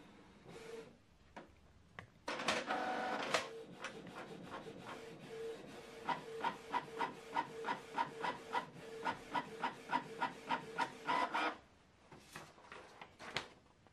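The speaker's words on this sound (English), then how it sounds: "Print a test page." A Canon TS3750i inkjet printer runs a test page, with mechanical whirring followed by a steady series of rhythmic clicks and carriage passes at close range, then a pause near the end.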